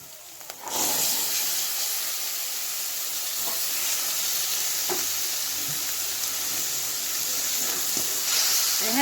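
Pre-cooked chickpeas go into hot fried masala, setting off a sudden loud sizzle that stays as a bright, steady hiss with a few stirring clicks.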